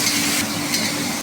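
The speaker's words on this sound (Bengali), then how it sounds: "গুগলিটা দিয়ে দেবো আমি। ভালো করে কষবো" Turmeric-coated freshwater snails are stirred and fried in a hot pan, a steady close sizzle with scraping strokes and light clinks of the spoon against the metal.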